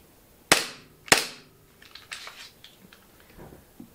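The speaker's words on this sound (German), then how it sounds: "Zwei Schuss." Two sharp, snappy shots from a gas blowback airsoft gun, about half a second apart, each followed by a brief metallic clatter and faint handling clicks in a quiet indoor space.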